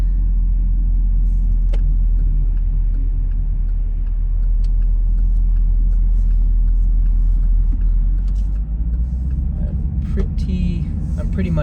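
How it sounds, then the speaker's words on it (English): A Chevrolet Camaro SS 1LE, freshly rebuilt, drives on the road with a loud, steady low engine rumble and road roar heard from inside the car. "This car's driving it sounds a whole lot better because the transmission's not making any funky sounds anymore."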